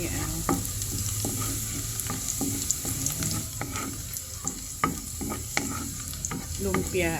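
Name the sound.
frying vegetable spring rolls (lumpiang gulay)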